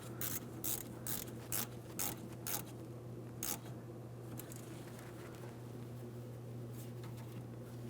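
A ratchet snugs a fuel line hose clamp on a 2007-2014 GMC Sierra 2500 HD 6.0L V8 during fuel tank lock ring work, giving quick bursts of close, crisp clicking over a steady low hum.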